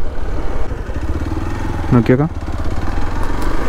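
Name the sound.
Hero XPulse 200 motorcycle engine riding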